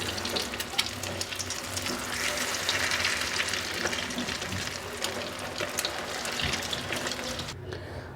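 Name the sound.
potato chicken tikki cutlets frying, turned over in the pan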